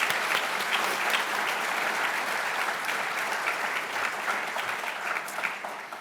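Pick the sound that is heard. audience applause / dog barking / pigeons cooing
audience applause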